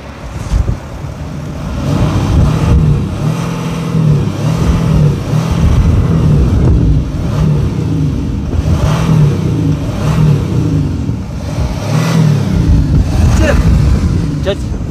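A stationary Audi SQ5 engine rumbles at idle and is blipped with repeated throttle revs that swell and fall back, loud and close, with people talking over the engine.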